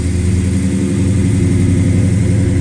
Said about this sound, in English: if you just let the fuel pump build a little pressure, it fires right up without giving it any gas